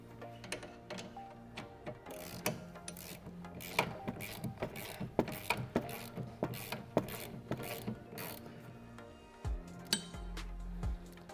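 Ratchet tightening a nut on a 2015-2023 Mustang billet upper control arm, a series of quiet, close clicks and metallic ratcheting in irregular bursts.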